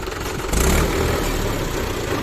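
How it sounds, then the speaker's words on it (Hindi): A John Deere 5105 4x4 tractor, or a two-wheel-drive MM 475, labours in low gear while pushing a loaded trolley backward and slipping slightly, a steady, loud, rough engine drone with a surge near the start, no talking. "तो ये ट्रैक्टर स्लिप कर रहा है थोड़ा सा"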